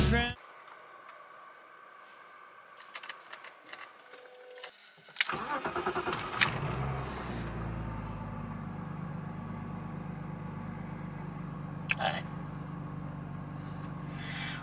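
After a quiet stretch with faint background sounds, a car engine cranks and catches, then settles into a steady, close idle.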